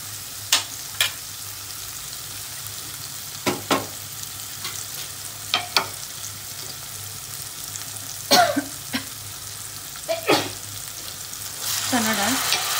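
Tomato, onion and masala frying in a pan, with a steady low sizzle throughout and sharp scraping stir strokes at intervals, the hiss swelling louder near the end as soaked chana dal goes in.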